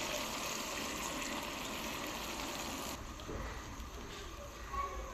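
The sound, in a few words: water being added to chicken curry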